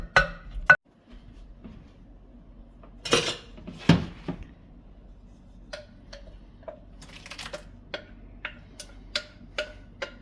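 Chopped strawberries tumble into a measuring cup, giving scattered light clinks and taps of a spoon against the cup, some sharper knocks early on, then a run of small ticking contacts.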